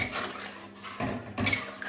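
Salt being stirred into potatoes in a metal pot, giving short scraping and clinking spoon-on-pot sounds, close and moderately quiet, with a louder clatter near the end.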